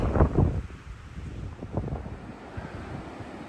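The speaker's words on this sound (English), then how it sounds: "Ooh, that wind's something." Strong wind buffets the microphone in low, uneven gusts, rumbling steadily throughout with a heavier blast at the start, on the Colima Trail in Big Bend in winter.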